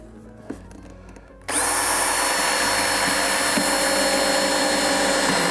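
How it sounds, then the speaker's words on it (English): A power drill bores into wood, starting abruptly after a couple of faint knocks and then whining loudly and steadily up close until the end. "when you're drilling into wood, even if your bit's sharp,"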